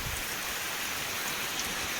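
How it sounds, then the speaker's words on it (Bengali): Heavy rain falls outdoors in a dense, even hiss of countless drops striking surfaces, steady and close throughout, with no voices. "বাইরে কিন্তু খুবই বৃষ্টি, দেখাই দেখেন কত বৃষ্টি আজকে"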